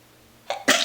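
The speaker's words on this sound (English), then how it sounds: "I'm gonna sneeze." A single sneeze from a woman partway through a makeup routine: a faint inhale, then a sharp, close explosive burst that stands alone with no talking.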